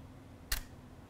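A single sharp shutter click from a camera during a still-life shoot lit by a moving torch, one brief snap in an otherwise quiet room.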